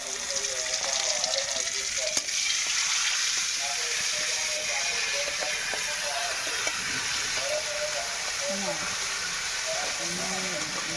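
Ground cumin paste fries in a pan for a cauliflower curry, a soft continuous sizzling hiss running underneath a person talking throughout.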